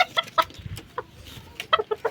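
Red junglefowl (labuyo) clucking in short bursts, several sharp calls spaced through the moment with brief pauses, close and fairly clear over faint background noise.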